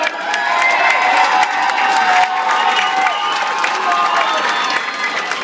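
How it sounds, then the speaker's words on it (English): A crowd at an amateur charity boxing event erupts in loud, continuous applause mixed with cheering, whoops and shouting, a dense roar sustained for several seconds. "Give him a massive round of applause"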